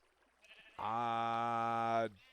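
A single drawn-out sheep bleat from Minecraft, clear and sustained for over a second, sounds alone against a quiet game background.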